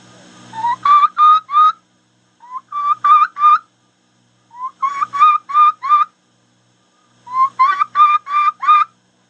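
Four bursts of rising, whistled kee-kee notes from a turkey diaphragm mouth call imitating a lost young turkey's kiki run, each run of three to five high clear whistles, close and loud, with short pauses between.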